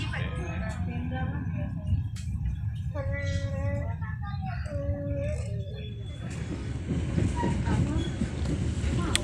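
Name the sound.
Rajabasa passenger train running on rails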